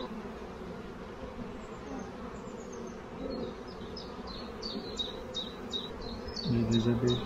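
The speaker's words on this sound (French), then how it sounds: "J'ai des abeilles fort noires," Dark honey bees hum steadily around a hive during a spring inspection, a low, constant, close buzz with birds chirping faintly in the background.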